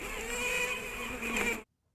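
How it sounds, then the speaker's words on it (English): Honey bee scout piping on a swarm mounted on a board, a steady sustained tone with harmonics over a dense buzz of many bees, close and continuous before stopping abruptly. "that running scout bee, and you can hear her piping"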